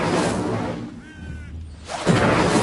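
A fire spell is cast in the Hogwarts Legacy video game: a loud burst with a whooshing, crackling roar, dipping into a brief tonal shimmer before a second flaring rush near the end.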